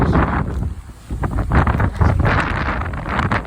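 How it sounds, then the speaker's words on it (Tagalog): Strong wind roars and buffets the microphone on a street in Kuragano, Japan, producing a loud, gusty rumble that swells and fades without letup. "Ang lakas ng hangin."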